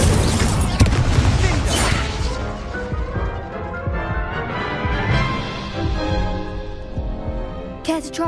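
Incendio fire spell blast in the Hogwarts Legacy video game: a loud crashing burst right at the start, then a decaying, crackling roar that fades out, with a sharp impact near the end.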